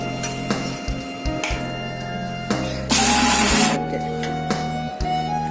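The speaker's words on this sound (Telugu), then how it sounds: "ఇలా గ్రైండ్ చేసుకోవాలండి" A mixer grinder grinds roasted peanuts for ridge gourd chutney in short whirring pulses, with one louder, harsher burst in the middle and steady motor hum between.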